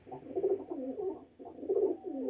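Pigeons coo close by in two soft, rolling phrases of low throaty murmurs, fairly quiet and alone without talk.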